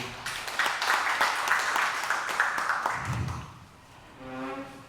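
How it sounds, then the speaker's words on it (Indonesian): Audience applause for Haji Fahruluddin at a relaxed arts talk event, moderate clapping for about three seconds that fades into a quiet room with a brief voice at the end. "Tepuk tangan dulu buat Haji Fahruluddin"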